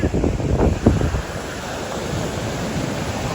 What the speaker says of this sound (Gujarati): ખરેખર એટલો મસ્ત પવન આવે છે